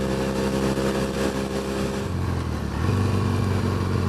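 A classic motorcycle passing during a run down Loch Ness, a loud engine drone that shifts in pitch midway, close and steady with no talk.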